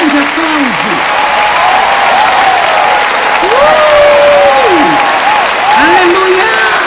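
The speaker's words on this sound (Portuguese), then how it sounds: "vamos dar às mães aqui um grande aplauso" A large audience at a sermon applauds and cheers loudly for the mothers, a sustained roar of clapping while a voice speaks over it at intervals.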